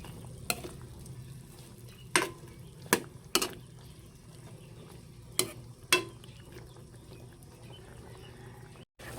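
String beans stirred in a cooking pan, several sharp scraping clatters of a utensil at irregular intervals over a faint continuous sizzle, close and fairly quiet.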